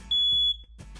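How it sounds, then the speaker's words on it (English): A household smoke alarm under test gives one loud, piercing high-pitched beep lasting under half a second, followed by quiet room tone and faint handling noises. "Test them monthly."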